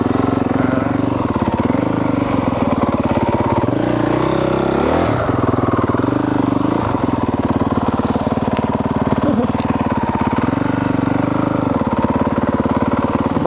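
A 2022 Honda CRF 450R dirt bike engine runs steadily in a muddy setting, its loud, buzzy drone rising and falling with throttle blips and brief revs throughout.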